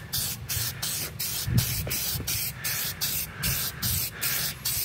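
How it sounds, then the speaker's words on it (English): An aerosol can sprays clear coat onto a car headlight in a rapid series of short, loud hissing bursts, each separated by brief gaps, with no talk. "I'll spray the clear on while we're looking and we'll watch it and see if it clears up"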